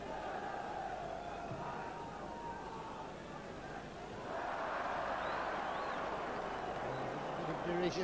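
Football crowd at a 1988-89 Derby County First Division match voices loud derision as the goalkeeper kicks the ball into touch, a broad sustained roar of jeering that swells midway and stays loud to the end.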